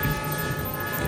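Toy trains running on a track, a CC206 diesel locomotive colliding with a Railking steam locomotive, give a steady, loud rolling rumble with a constant mechanical hum throughout.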